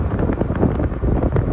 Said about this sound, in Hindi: बहुत ठंडी हवा चल रही